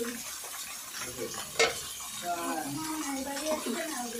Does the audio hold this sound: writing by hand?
no